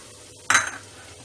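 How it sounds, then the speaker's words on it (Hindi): Onions drop into hot ghee in a pan with a sudden sharp sizzling burst that fades quickly, a single close splash of frying against a quiet kitchen. "अब ये प्याज डाल रही हूँ।"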